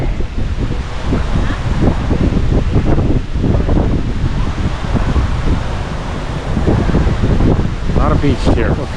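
Strong wind buffets the microphone in loud, continuous low rumbles and gusts on Kata Beach in Phuket, Thailand, with surf-like roar in the background throughout.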